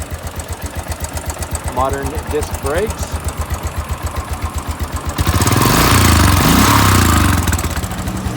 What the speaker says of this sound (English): This fuel-injected single-cylinder engine has the classic Enfield thump